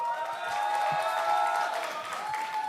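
Sustained applause from a large audience at a party convention, steady clapping and crowd noise filling the hall with a tonal hum running underneath throughout.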